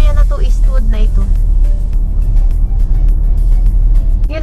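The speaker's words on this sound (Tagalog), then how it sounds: "Pila yan ng sasakyan. I mean, traffic." Steady car traffic rumbles along a road in Eastwood, Sydney, with a constant low engine drone and passing vehicles, while people talk over it.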